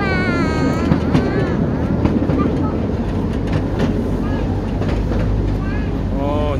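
A small tourist train rides along steadily in Tramore with a constant low engine drone, while children and adults chatter and call out over it.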